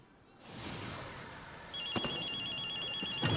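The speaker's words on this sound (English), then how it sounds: "Why is the phone ringing?" A telephone rings in a ghost-hunting video game set in Tokyo, a bright electronic trill starting partway in over low background ambience, with a couple of sharp knocks alongside.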